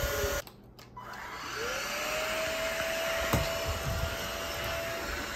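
An Oraimo rechargeable bendable vacuum cleaner runs over grass clippings on a floor, its motor starting with a brief dip and then holding a steady, loud whine with a rising tone and airy suction hiss, with no talking.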